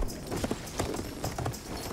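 Horse hooves clip-clop at a steady trot in the video game Battlefield 1, a brisk rhythmic patter of hoofbeats running through the whole short stretch at close range.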